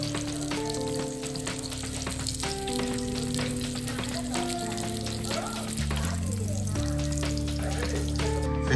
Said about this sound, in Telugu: చేపలు చూడండి నూనెలో ఎట్లా ఇల్లాడుతున్నాయా